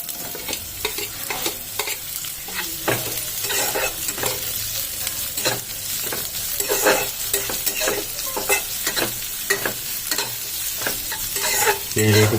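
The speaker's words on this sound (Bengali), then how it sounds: "পেঁয়াজটা একটু ভালো করে ভেজে নেবো।" Chopped onions fry in a pan while being stirred. Repeated scraping strokes break through a continuous crackling sizzle at close range, with no voices.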